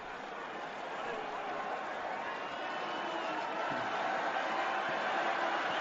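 A stadium crowd at the 2016 NRL Grand Final between Melbourne Storm and Cronulla Sutherland Sharks cheers for Sharks captain Paul Gallen, a broad, steady roar of many distant voices that swells slightly, with broadcast commentary alongside.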